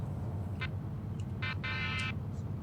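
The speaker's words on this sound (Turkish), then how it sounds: "Korna biraz değişik." A VDL coach horn sounds in Fernbus Coach Simulator: a short faint honk followed by two slightly longer blasts, quiet and set against a steady low engine rumble, with no talking.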